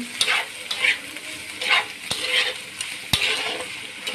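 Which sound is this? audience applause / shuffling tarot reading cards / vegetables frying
vegetables frying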